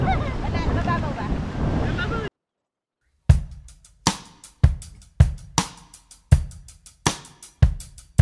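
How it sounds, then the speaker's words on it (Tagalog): Strong ocean waves crash one after another on a beach. The loud, close surges follow a steady rhythm, and a burst of talk and wind buffeting comes before a short gap of silence. "Actually malakas kasi yung alon dito."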